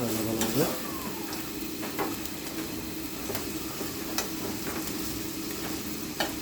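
Taro stems frying with a hilsa fish head in a pan, a spoon stirring and mashing the softened pieces; a steady close sizzle runs throughout, broken by occasional scraping clicks of the spoon against the pan.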